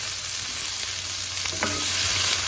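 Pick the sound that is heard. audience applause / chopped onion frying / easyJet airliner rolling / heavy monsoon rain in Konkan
chopped onion frying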